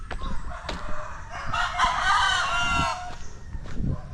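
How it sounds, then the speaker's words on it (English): Dozens of roosters kept together in the Philippines crow in overlapping calls, one long loud crow rising in the middle over scattered clucks and other birds nearby. "Roosters are crowing as usual."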